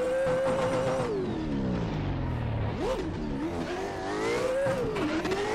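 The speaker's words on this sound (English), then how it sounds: "Losing grip massively in the rear right now." Car drifting in Assetto Corsa on canyon roads, losing rear grip with hot tires; the engine revs rise and fall in long sweeps, dipping low then climbing again, with tire squeal mixed in, loud and continuous.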